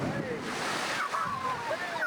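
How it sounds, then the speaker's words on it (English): Heavy surf driven by ex-cyclone Winston pounds rock walls on the Gold Coast at the year's highest tide, a continuous broadband roar of crashing water mixed with wind noise. "waves pounded the rock walls and surged up the shoreline"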